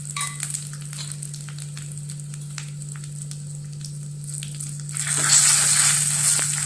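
Dried red chilies and curry leaves frying in oil with mustard seeds for a tempering, a close, steady sizzle that swells louder and brighter toward the end, over a low electrical hum.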